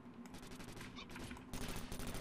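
Rapid automatic gunfire from a new weapon in the tactical shooter Takedown: Red Sabre rattles in a continuous burst that gets louder and denser halfway through.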